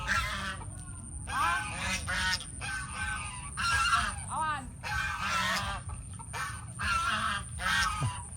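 Geese honk repeatedly in uneven bursts, fairly close, over a steady low rumble of background noise.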